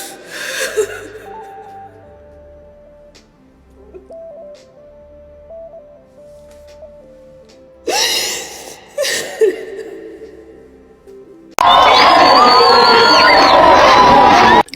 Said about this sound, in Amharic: ይህ ጭብጨባ የደስታ ፈንጠዝያ ጭብጨባ አይደለም፣ ይልቁንም በግፍ ለተገደሉ ወንድማቸው ፍትህ የሚጠይቅ ድምጽ እንጂ።